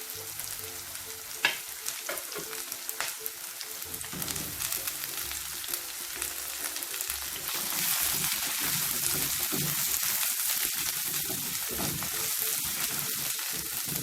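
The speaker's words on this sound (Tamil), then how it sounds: "வெங்காயம் நல்லா பொன்னிறமா ஆகணுங்க" Onions fry in oil in a pan for potato rice, a steady close sizzle with scattered clinks and stirring scrapes, the frying growing denser and hissier in the second half; no talk.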